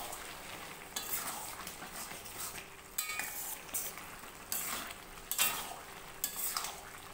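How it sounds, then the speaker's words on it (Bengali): Prawns and chunks of bottle gourd being stirred together in a hot pan, with scraping and soft clinks of a spoon over a steady sizzle, close and fairly quiet with no talking. "চিংড়ি মাছ আর লাউ ভালো করে মিশিয়ে নেব"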